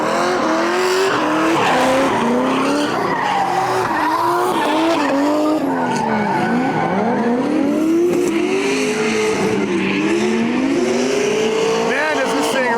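Grassroots drifting in the Midwest: a car slides with long, wavering tire squeal over a loud revving engine, continuous and close for the whole stretch.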